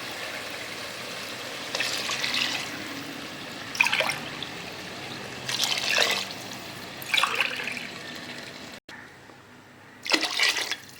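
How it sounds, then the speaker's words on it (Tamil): Water is poured in several separate splashing bursts over a steady low background hum, each pour lasting about a second. "நாலு டம்ளர் அளவுக்கு தண்ணி சேர்க்கணும்"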